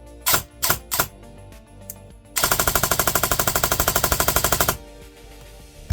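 A Specna Flex BLDC airsoft gun being test-fired: a few single shots, then a fast, even full-auto burst of about twenty rounds lasting over two seconds, loud and close, with no talking.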